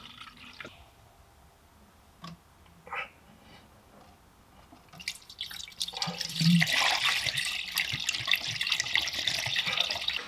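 Radiator flush cleaner glugs and splashes as it is poured into a car's radiator opening, starting after a few quiet clicks and continuing as a steady rushing pour.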